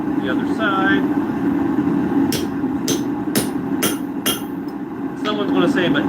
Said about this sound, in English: you're just hitting the underside of your anvil